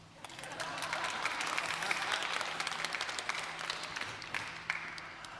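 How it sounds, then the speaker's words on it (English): Sustained audience applause at a tourism resilience day launch event at the World Expo in Dubai, a dense, even wash of clapping that holds steady throughout with no talk. "Applause."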